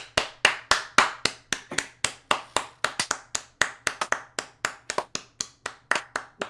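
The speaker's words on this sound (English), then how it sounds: "Why are we clapping?" A small group of people applauding close by, a fast steady run of sharp hand claps that keeps going without pause.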